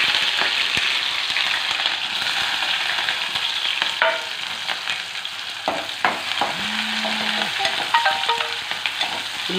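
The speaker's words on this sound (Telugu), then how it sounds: "అలాగే ఉల్లిపాయలు వేస్తున్నానండి" Onions sizzling in hot oil in a pan for a ridge gourd and egg curry, a continuous close frying hiss with occasional stirring clinks and scrapes.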